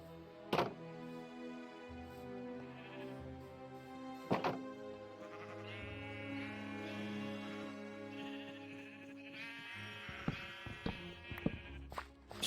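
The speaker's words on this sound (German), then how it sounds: "Die Schafe freuen sich schon, dass ich back bin." Minecraft sheep bleat in repeated short, wavering cries from close by, mixed with several sharp blocky thunks from in-game actions, and no one speaks.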